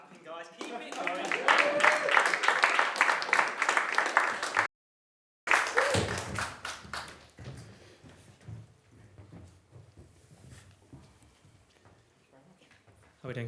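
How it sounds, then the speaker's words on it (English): Audience clapping at a pain-education livestream event, steady applause under a speaker's voice that breaks off briefly, then fades to scattered claps and talk. "Don't stop clapping, guys. Keep it going."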